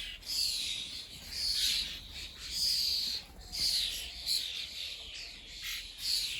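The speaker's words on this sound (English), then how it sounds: "There's my blackbird." A blackbird sings in a garden, repeating clear whistled phrases at a moderate distance amid a wash of other birdsong and insect buzz, with no voices.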